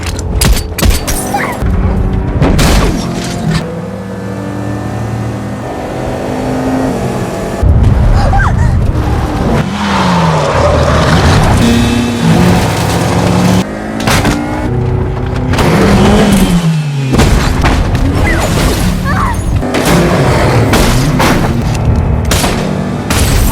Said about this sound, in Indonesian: terlihat mobil Workman yang mampu digulingkan Mason